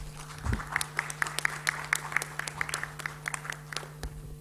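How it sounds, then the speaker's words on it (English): An audience at a water-related hazards session gives scattered, moderately sized applause that runs steadily for several seconds over a faint hum. "let's do applause, take our hands to say thank you to the speakers"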